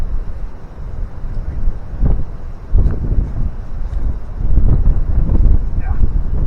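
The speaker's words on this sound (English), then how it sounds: "As the wind dies a little bit, let's see if it picks up again." Wind gusting outdoors during disc golf play, a steady rough rumble buffeting the microphone that swells and eases in waves, loudest near the end.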